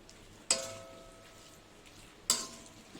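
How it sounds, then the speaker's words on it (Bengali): A spoon stirs chicken bharta in a cooking pan, giving two sharp scraping clinks a couple of seconds apart over a faint, quiet sizzle, with no talking. "একটু নেড়ে চেড়ে দিতে হবে"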